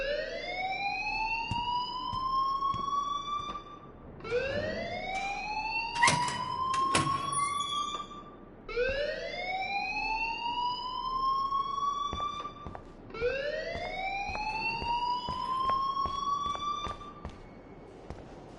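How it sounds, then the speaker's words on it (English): An alarm rings in the video game Life is Strange, a loud rising electronic whoop that repeats four times, each sweep climbing and holding before cutting off, with faint clicks beneath. "please turn off that alarm since that's your job"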